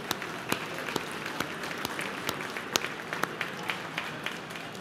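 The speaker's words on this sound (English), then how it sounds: "So let's give a big round of applause for all of our sponsors." A crowd at the 2023 GeekWire Awards applauds the event's sponsors with steady clapping and a few sharper individual claps standing out, sustained at moderate loudness throughout.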